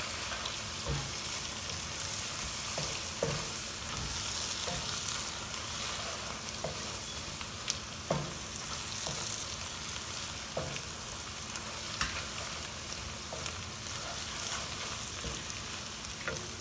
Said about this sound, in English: And you gotta stir it well.